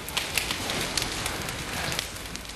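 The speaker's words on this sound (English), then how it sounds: "That's the sound of fresh baked bread as it cools." Freshly baked bread crackles as it cools, a dense steady field of tiny pops and fizzing ticks, close and fairly faint, with no voices.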